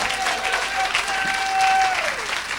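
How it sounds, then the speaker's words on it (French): A church congregation applauding in a hall, a dense continuous clatter of many hands that swells near the end, with voices and a sustained tone mixed in beneath. "Acclamez Jésus dans cette salle."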